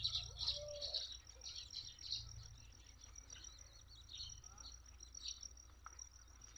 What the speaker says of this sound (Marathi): सगळ्या अंगणात चिमण्यात चरतात सकाळ सकाळ.